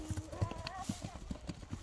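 A horse's hooves clip-clop in quick, regular beats on the ground as it breaks into a run, with faint voices in the background.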